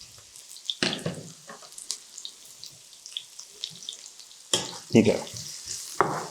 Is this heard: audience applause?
no